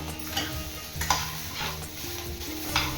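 Onion and ginger sauté in a pan, with a soft sizzle under repeated scraping strokes of a stirring spoon against the metal, each stir a brief clatter.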